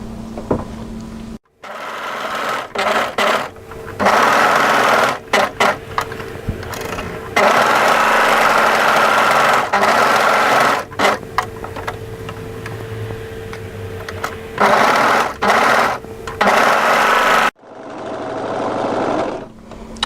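An overlocker sews the seam of an A-line hooded jacket in repeated fast, buzzing runs, stopping and restarting many times over twenty seconds, close and loud.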